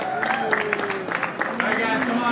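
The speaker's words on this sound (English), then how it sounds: "give him a round of applause" After a fencing bout at a demonstration, a small audience claps for the winner. The patchy, uneven clapping sits under voices talking and calling out nearby.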